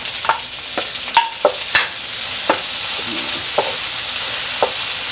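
Tomatoes go into a pan of sautéing garlic and onion, giving a loud steady sizzle broken by repeated sharp spatula clacks and scrapes, with no talk.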